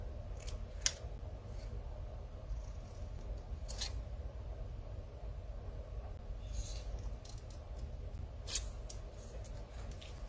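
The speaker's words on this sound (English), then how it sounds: "I found some scissors yesterday. So we will do this the hard way." Household scissors snip through fabric in a few sharp, irregularly spaced cuts over a steady low background rumble.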